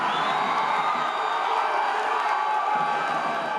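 Corinthians supporters roar and cheer in a dense, continuous wall of crowd noise celebrating a title win after a final, with whoops rising above the steady din.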